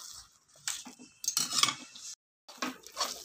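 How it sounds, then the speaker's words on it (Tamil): Chettinad mochai field bean masala being stirred in a pan, with bursts of scraping and rubbing of a spoon against the metal broken by a short silent gap, soft and close with a faint sizzle and no talking. "இந்த மாதிரி அடி பிடிக்காமல் கிண்டிக்கிட்டே இருக்கணும்."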